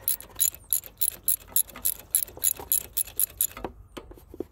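A hand ratchet turns a bolt on the starter of a Kohler Courage V-Twin engine outdoors, clicking in short rapid bursts of pawl clicks, close and crisp, with brief pauses between strokes.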